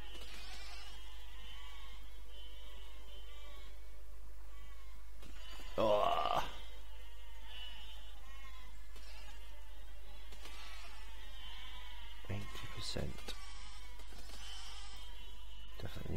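A sheep bleats in the physics building game Besiege, one short mid-pitched bleat standing out over a steady game background hum and someone talking, with a couple of sharp impact thumps later.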